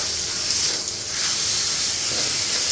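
Taro stems boil in a pot for a village-style rohu fish curry, giving a steady, loud hiss of steam and bubbling that holds evenly throughout.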